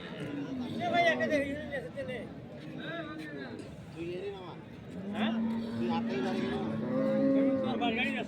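A dairy cow at a busy cattle market lows several times, the long moos rising over a background of crowd chatter and people talking nearby.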